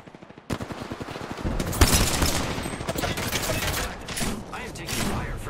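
Rapid bursts of automatic gunfire aimed at the player in an arena video game, loud and dense after a quieter opening second, with brief overlapping mechanical clatter.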